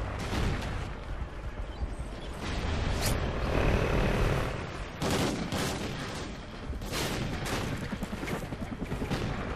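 Dense, continuous gunfire and explosions from an online match of Call of Duty Ghosts, loud overlapping shots and bursts filling the whole stretch.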